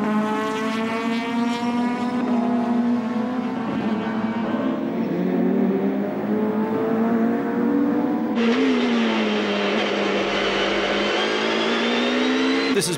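In-car view from a BMW super touring race car during a 1996 Australian Super Touring Championship round at Amaroo Park, its engine droning loud and steady at high revs, pitch shifting with gear changes, with no speech.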